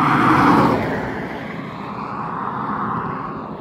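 A car passes by on the road, its broad rushing noise loudest at first and then fading to a steady lower rumble, heard close with no voices.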